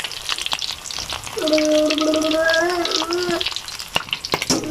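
Shrimp tempura deep-frying in oil crackles and sizzles loudly and close, with scattered pops, while a sustained tonal, voice-like sound runs briefly through the middle.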